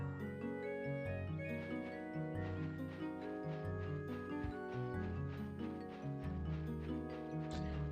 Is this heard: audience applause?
no